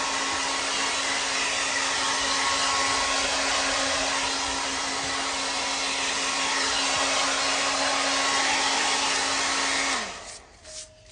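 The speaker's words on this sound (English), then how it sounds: "I'm going to take a warm dryer. Just go over everything." A hair dryer blows warm air in a steady, loud whooshing whir for about ten seconds, then winds down and switches off.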